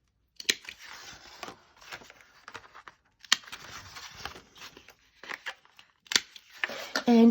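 Paper corners are rounded with a corner punch in a series of sharp clicks and snips, scattered unevenly with small crinkles of paper and handling noises between them, close up and fairly quiet.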